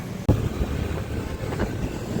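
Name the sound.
auto rickshaw engine passing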